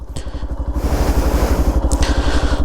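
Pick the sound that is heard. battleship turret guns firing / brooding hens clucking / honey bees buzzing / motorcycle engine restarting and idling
motorcycle engine restarting and idling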